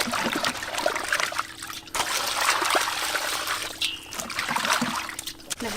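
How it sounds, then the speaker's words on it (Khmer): Water is poured over a large fish to clean it, trickling and splashing in uneven bursts close by, with brief pauses between pours. "អូត្រីយើងកង់ធំហ្មងសិតតែសាច់នឹងណែយើងចាក់ទឹកសម្អាតចឹង"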